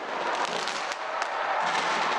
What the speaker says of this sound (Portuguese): uma grande queima de fogos de artifício marcou o Ano Novo na capital